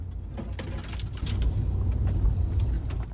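A truck pushes through dense alder brush, branches scraping and dragging along its painted sides over a steady low engine rumble, with intermittent scratching and thumps close by throughout; no talking.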